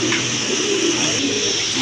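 Pigeon cooing from a bird of a prized blood line, a low steady coo carrying on without a break under a constant noisy background hiss.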